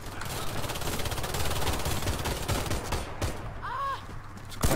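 Continuous automatic gunfire in the Warface video game, dense rapid shots sustained across the whole stretch, loud and close, with a brief whistling effect near the end.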